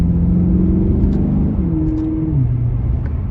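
A 2010 Maserati GranTurismo 4.7 V8 accelerating nearby, its loud exhaust rumbling through a rising engine note, with a gear change partway and a deep burble as the revs settle.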